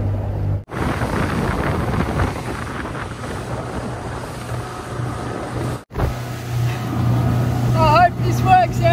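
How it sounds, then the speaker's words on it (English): Strong, breezy wind at sea during offshore fishing near Sydney buffets steadily and loudly throughout, broken by two brief dropouts, with a voice talking toward the end. "I hope this works out because it is very breezy."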